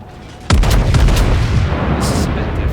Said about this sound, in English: Keep on firing. I've got lots of guns.